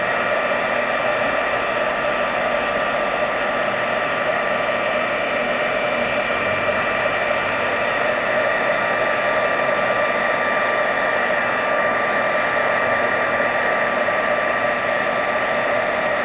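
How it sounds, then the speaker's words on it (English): A heat tool blows hot air onto an embossing stamp, giving a continuous, even, fairly loud whooshing hum that holds steady with no breaks and no talk. "This heat tool is a lot quieter than our older one that we used to sell."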